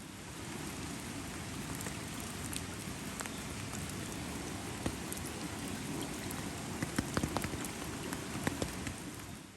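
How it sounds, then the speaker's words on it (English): Steady rain pours onto ferns and other plants, a dense continuous patter with occasional louder drops, heard alone. "Meanwhile, the life-giving rain pours on."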